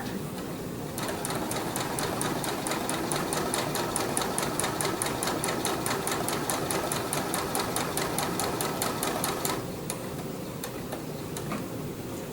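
A sewing machine runs steadily for about nine seconds, stitching a blanket stitch onto quilt binding with a fast, even rhythm of needle ticks, then slows and stops near the end.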